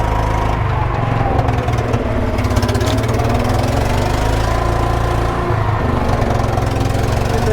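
Engine of a vintage 1980s UTV running in first gear, a loud, steady, rough mechanical drone with a clunky rhythmic knock, close and continuous throughout.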